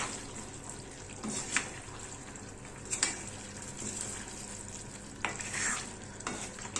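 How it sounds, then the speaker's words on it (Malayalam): Kerala-style mutton curry with fresh coriander leaves is stirred in the pot, with a few distinct spoon scrapes and clanks over a quiet, low bubbling sizzle. "എന്നിട്ടൊന്ന് ഇളക്കി അങ്ങോട്ട് കൊടുക്കാം."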